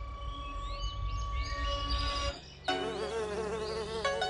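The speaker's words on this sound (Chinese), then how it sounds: "一只蜜蜂正在采蜜" A honeybee gathers nectar from flowers on an orchid mantis's hunting ground, its close, steady insect buzz droning throughout with wavering pitch and a brief dip midway.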